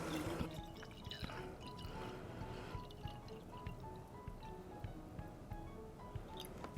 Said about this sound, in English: So I'm going to go ahead and pour my water.